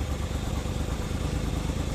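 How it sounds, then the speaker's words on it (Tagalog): A Suzuki K6A engine idles unevenly with a misfire, heard near its exhaust pipe as a steady low chugging rumble with an irregular stumbling pulse, no talking over it. "Palyado ta. Halatang palyado talaga."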